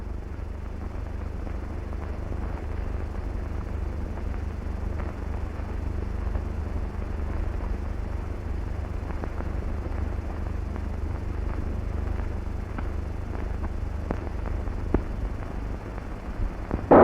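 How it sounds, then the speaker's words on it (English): High-speed fighter aircraft flying out toward enemy planes during a Soviet civil defense exercise: a steady, loud engine roar dominated by a deep low rumble, continuous throughout with no voices. "High-speed fighters are flying towards the enemy aircraft."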